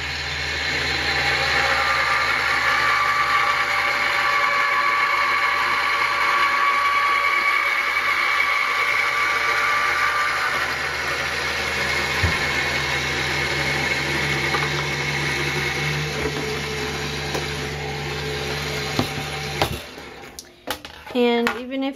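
A die-cutting machine hums steadily as a roses cutting die is cranked through it for a Mother's Day card. The drone is close and continuous, with handling clatter at the end.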